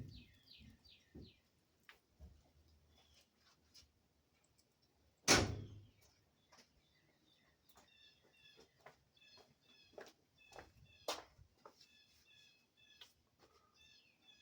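A farm truck's door opens and shuts outdoors during brake work, giving one loud, close thud midway, with birds chirping and calling throughout.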